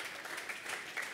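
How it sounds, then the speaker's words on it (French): At a French poster-contest prize ceremony, an audience claps for a prize winner. The applause is brief, faint and steady, heard from a distance. "on l'applaudit"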